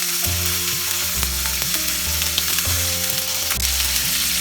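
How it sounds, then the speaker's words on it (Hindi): Pointed gourd (parwal) fries lightly in oil in a pan, giving a dense, even sizzle with a low hum underneath and occasional faint clinks, heard close and continuous with no talk. "परवल भी हमें हल्का सा फ्राई करना है। एक साइड हो जाएगा, दूसरा साइड हम टर्न कर देंगे।"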